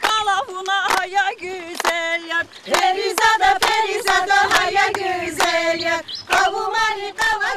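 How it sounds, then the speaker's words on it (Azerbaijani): Rhythmic hand clapping keeps time with singing of a Lezgian wedding song: sharp, evenly spaced claps punctuate the melodic vocal line from start to finish, close and lively. "Alqış ritmi ilə ifa olunan bu mahnı"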